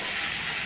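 Water pours into a pan of frying onions with a brief, loud rushing gush that fills the whole short moment.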